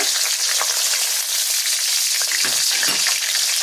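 Whole spices (bay leaves, dried red chillies, whole garam masala and cumin) sizzling in hot oil left over from frying potatoes for chicken curry: a loud, steady close-up hiss with a few faint crackles, no talking.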